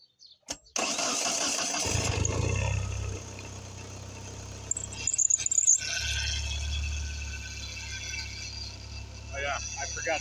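A car engine cold-starts after a brief crank and settles into a steady idle with a loud whining power steering pump on top; a short squealing burst comes midway, and voices speak briefly near the end.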